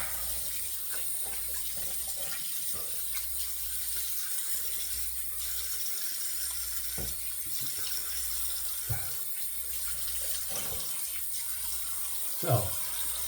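Tap water runs steadily into a sink while a shavette razor is rinsed during a wet shave, a constant close hiss with occasional light clinks and knocks.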